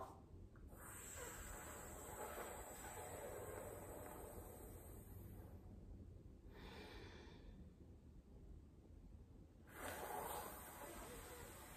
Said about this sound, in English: And that is cooling breath, Sitali breathing.